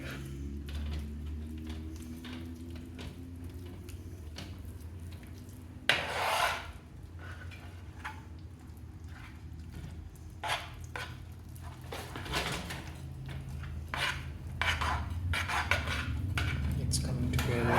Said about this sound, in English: here we've cleaned the spoon, and I'm gonna mix it in again